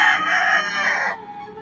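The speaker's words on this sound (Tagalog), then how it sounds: "Maraming manok." Roosters crowing at a Philippine house, one loud, close crow filling the first second before trailing off into quieter background sound.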